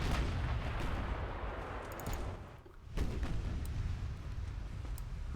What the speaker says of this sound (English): Get both ships here firing a broadside.